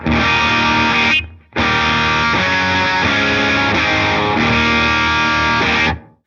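Heavily distorted electric guitar chords through an amp simulator with three tube stages ring out loud and close, with one short break before sustaining to the end.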